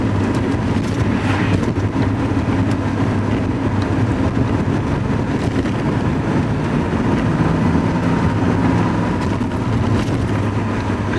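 Porsche 928 V8 engine running steadily at about 2000 RPM while driving on the road, a continuous close, loud drone with low rumble and road noise throughout, no talk.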